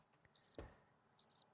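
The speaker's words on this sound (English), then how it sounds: "you could hear crickets when the host Keanu was on." Crickets chirping as a comedic sound effect on a talk radio show: two short bursts of rapid, high chirps separated by a brief low thump, with no voices.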